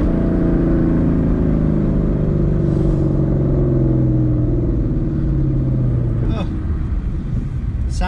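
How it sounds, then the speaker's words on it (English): A Ford Mustang GT's 5.0 V8 revs from inside the cabin after a downshift, a loud continuous engine roar with the pitch sweeping down, then steadying, with a few brief sharp noises near the end. "High revving V8 with plenty of torque."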